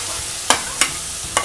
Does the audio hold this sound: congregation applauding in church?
no